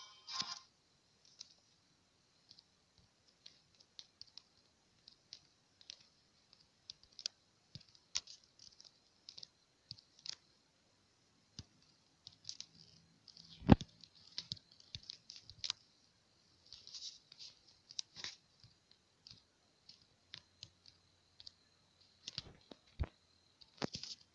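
Someone typing on a computer keyboard, scattered bursts of quiet key clicks with pauses between them, faint and close in an otherwise near-silent room.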